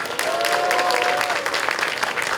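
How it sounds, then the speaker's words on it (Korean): Audience applause at a groundbreaking ceremony for a food-robot and food-tech research support center in Korea, a steady wash of many hands clapping throughout, with a brief faint tone near the start. "박수 한번 보내주십시오"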